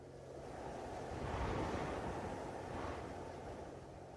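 Strong sea wind blows into a kitchen, a steady broadband roar with surf-like swells that rise around the middle and ease toward the end, continuous with no voices.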